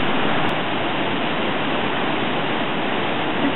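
Water surging up through a rock crack and spitting out at Tahquamenon Falls, heard as a loud, steady broadband roar of rushing water with no breaks, close and constant throughout.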